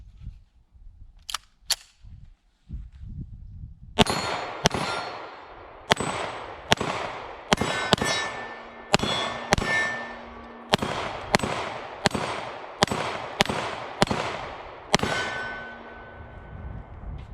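Rapid pistol shots from a CZ Shadow 2 fired at 7 yards on an outdoor range, a couple of faint clicks then about fourteen loud, sharp reports in a steady, evenly spaced string with no talking.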